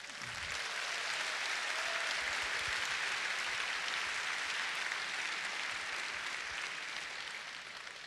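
An audience at a debate applauds, a dense, steady wash of clapping that holds for several seconds and then begins to fade slightly toward the end.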